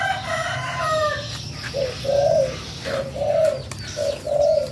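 A pair of caged birds, about five months old, call close by with repeated short cooing phrases in rhythmic bursts, separated by brief pauses, with no talk over them.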